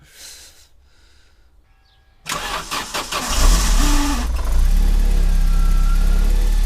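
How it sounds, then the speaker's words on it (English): An Opel Calibra's engine cranks and fires after a quiet stretch, a sudden loud starter whir catching into a rising rev before settling into a steady, smooth idle close by. "I can start the car and you can touch it if you want"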